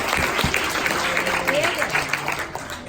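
Audience applause at a youth gathering, a dense clatter of clapping with some voices mixed in underneath, holding fairly steady for a few seconds.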